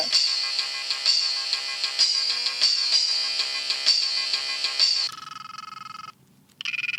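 A bright, multi-note polyphonic mobile phone ringtone melody plays in quick repeating phrases, then switches to a different buzzy tone with a brief gap.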